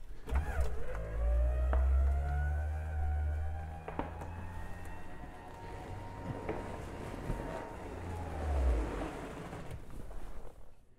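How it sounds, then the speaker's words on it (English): The electric convertible top of a classic Plymouth Fury lowers with a steady motor whine and hum, punctuated by mechanical clunks and clicks as it moves and settles, close and fairly loud. "we gotta lower the top on this thing"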